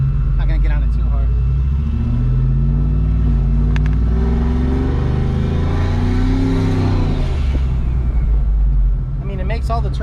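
Turbocharged Ford F-150 pickup revving and accelerating, its engine rumbling steadily and loudly up close from inside the cab with windows down, a low drone rising and falling in pitch over about ten seconds.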